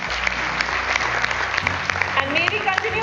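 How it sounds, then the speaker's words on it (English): An audience at a mining conference in Jaipur applauds with dense, continuous clapping throughout, loud and close, while an announcer's voice speaks over it. "And may we continue with this applause"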